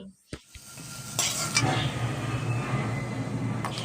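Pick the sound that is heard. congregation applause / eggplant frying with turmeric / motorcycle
eggplant frying with turmeric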